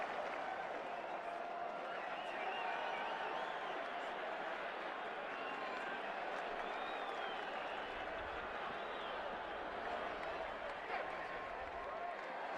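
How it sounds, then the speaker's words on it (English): A steady round of crowd applause at an India versus Australia cricket Test, faint and distant beneath a commentator's voice, the clapping holding evenly for the whole stretch. "The crowd appreciate the importance of this knock and are giving him a good round of applause"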